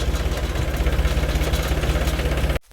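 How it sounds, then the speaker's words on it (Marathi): A tractor engine idles close by, parked after reversing up to a fodder-chopping machine, with a steady, even throb that continues unbroken and then cuts off abruptly at the end. "ट्रॅक्टर लावले मागं करून"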